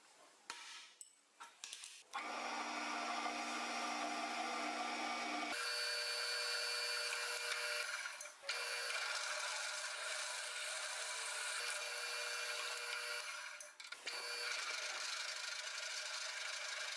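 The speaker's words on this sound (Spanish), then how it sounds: "vamos a realizarle unas perforaciones con broca de 3/4" A drill with a 3/4 bit bores holes in steel supports of a homemade sheet metal bender, giving a loud continuous whine and grinding with brief pauses and shifts in pitch, close up.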